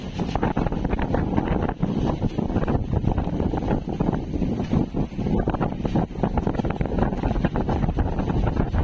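Strong wind buffets the microphone on a boat, roaring and gusting continuously with heavy rumble.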